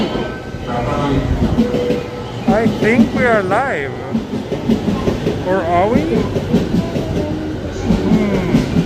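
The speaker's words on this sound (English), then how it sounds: "The local train bound for Nakano will soon arrive on track number 16." A local train bound for Nakano arrives at Shinjuku Station in Tokyo, rumbling and clattering along the platform under a station announcement, with someone talking close by.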